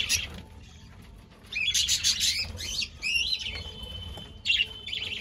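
Budgie chicks give shrill, repeated begging chirps to their parents in bursts, some loud and near, over a low background hum and faint rustling.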